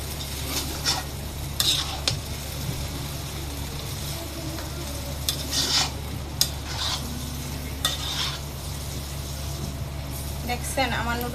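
Chow mein noodles being stirred and mixed with spices in a pan: soft scraping and tossing strokes with a faint sizzle over a steady low hum, moderately quiet and close.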